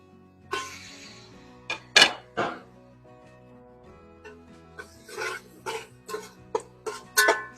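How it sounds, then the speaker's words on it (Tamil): Quarter kilo of chicken being stirred in reddened hot oil in a pan for chicken upma, heard as sparse, quiet clinks and scrapes of the utensil against the pan in irregular bursts, with no talking. "சேர்த்து நல்லா பெரட்டுவோம் ஒரு 5 நிமிஷத்துக்கு."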